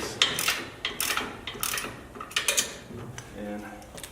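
A ratchet loosens two bolts on the back of an RS1 differential during the install on an XP Turbo, giving several quick clicking bursts in a stop-start rhythm with pauses between them.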